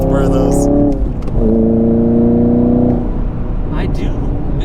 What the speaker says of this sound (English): I do miss the sound of exhaust.